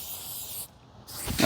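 Meguiar's Ultimate Black trim restorer is sprayed onto a car's front bumper in two close trigger bursts, a long hiss, a brief pause, then a shorter, harsher spritz.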